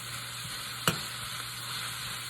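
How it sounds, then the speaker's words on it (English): Jackfruit wrap filling with onions and black pepper sizzles steadily in a pan, with one sharp scrape of the spoon near the start and soft stirring knocks around it. "Gonna stir that around."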